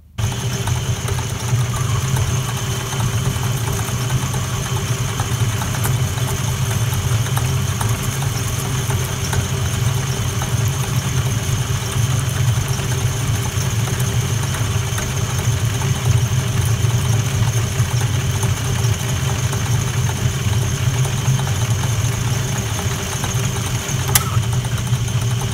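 A lathe machines 316 stainless steel with a high-speed steel tool, giving a continuous steady motor hum with a droning low rumble and a faint high whine, unbroken and fairly loud for the whole stretch.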